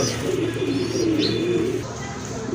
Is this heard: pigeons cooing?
yes